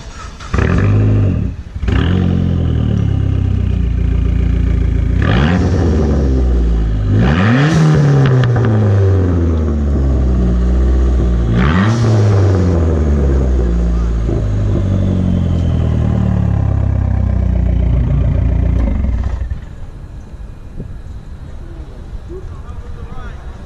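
A car fitted with titanium Weapon Art exhaust tips at a car meet starts up and revs loudly and close, with several sweeping rises and falls in engine pitch before dropping back to a quieter idle near the end.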